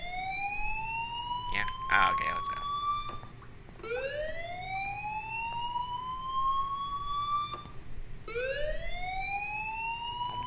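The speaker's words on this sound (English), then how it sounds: "Do you hear that fire alarm?" A fire alarm in the video game Life Is Strange wails in repeated rising electronic sweeps, three cycles a few seconds apart, while a person speaks briefly over it.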